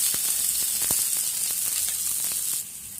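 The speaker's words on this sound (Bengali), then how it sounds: "কাঁচা লঙ্কা কুচি আর রসুন কুচিটা আমি মিনিট খানেক ভেজে নেব" Chopped green chili and garlic sizzle steadily in hot oil with cumin, a dense continuous frying hiss punctuated by small pops and crackles, close and fairly loud, with no voices.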